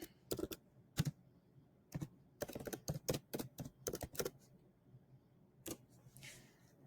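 Keys clatter on a computer keyboard as a Linux chmod command is typed, in quick close bursts of keystrokes separated by short pauses, ending with a final isolated tap and faint rustle.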